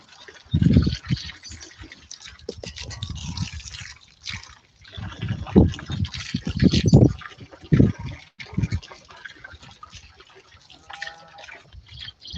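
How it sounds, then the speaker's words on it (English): Water from a garden hose splashes and gurgles into a pig's feed trough on a homestead during morning chores, an uneven close trickle with irregular louder spurts and no talking. "So I'm just going to put that water hose in there and leave it for a little while"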